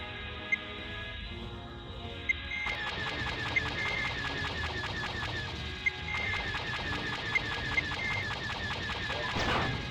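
A turret on an enemy craft fires in the space combat game TIE Fighter Total Conversion, giving rapid, evenly spaced electronic bursts over a steady engine hum. The shots repeat through the whole stretch with no talking.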